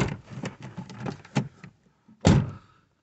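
A few soft clicks and rustles, then a brief pause before a single solid thump as the door of a 1998/99 Volkswagen Gol GL 1.8 four-door shuts close by.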